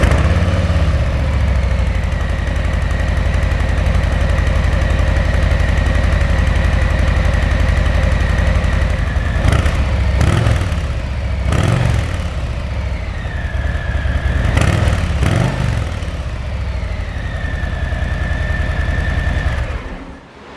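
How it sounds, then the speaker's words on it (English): A 2022 Harley-Davidson Low Rider ST on its stock exhaust idles close by with a loud, steady, deep rumble. The engine note wavers and briefly rises a few times near the end. "I'm going to go ahead and start the bike up and let you guys hear what it sounds like bone stock"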